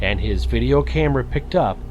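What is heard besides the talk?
No distinct noise like a dog, phone or traffic.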